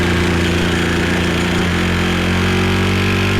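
A small emergency generator with a wooden-block throttle drones steadily at part throttle, loud and close, its even hum shifting pitch slightly partway through, with no voices.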